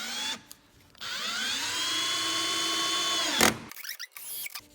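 Power drill driving a screw into a skate ledge built from a slappy pad kit: a short whirring burst, then a sustained motor whine that rises and slows under load, ending in a clunk and a few brief bursts.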